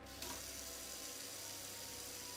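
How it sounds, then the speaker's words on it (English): Tap water runs steadily into a sink while a drinking glass is rinsed, a soft continuous hiss and splash, faint and alone. "Wash your fucking glass first."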